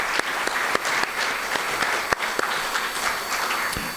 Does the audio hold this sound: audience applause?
yes